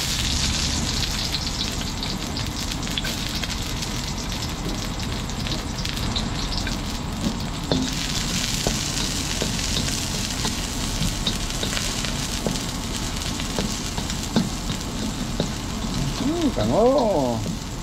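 Onion goes into a hot pan while Filipino pork with green chili cooks, with steady loud sizzling and crackling frying throughout.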